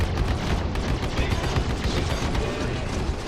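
Spaceship weapons firing in Star Citizen Arena Commander, a dense continuous loud barrage of rapid shots and blasts with no gaps.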